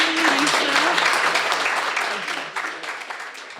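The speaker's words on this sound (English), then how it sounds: "let's go ahead and give an applause" Audience applause at a recovery group meeting, a dense wash of clapping that starts full and slowly thins toward the end, with a voice briefly audible underneath at the start.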